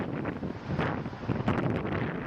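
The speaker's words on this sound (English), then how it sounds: "the Norbeck Lookout, you can hear the wind blowing" Wind gusts across the microphone at Norbeck Lookout along the Iron Mountain Road in the Black Hills, a loud rushing buffeting roar that swells and dips throughout, close and with no voices.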